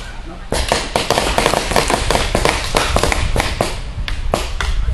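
Paintball gun firing at a paintball field, a rapid series of sharp, loud cracking shots in irregular bursts over a steady background hiss, with voices faintly present.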